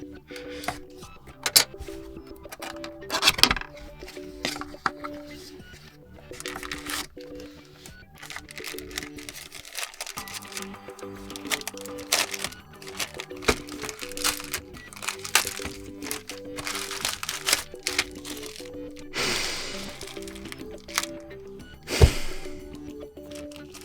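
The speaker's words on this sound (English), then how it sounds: "we do have a seal that I need to cut through" The packaging of a Xiaomi Smart Camera C301 is sliced through at its seal and unwrapped. Steady close crinkling, crackling plastic and papery rustles run throughout, with sharp cracks and tears in between.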